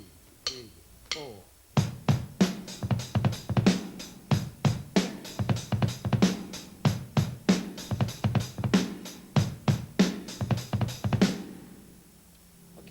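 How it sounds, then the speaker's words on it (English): Rock drum kit playing a steady beat with a fast kick drum, close and loud, with sharp rhythmic hits and cymbal wash after a short count-in of sticks clicks. "here's beat number 9. Listen for the fast kick."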